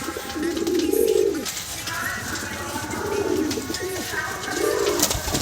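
Madrasi pigeons coo close by in three low, rolling phrases spaced a second or two apart, over a steady background hum.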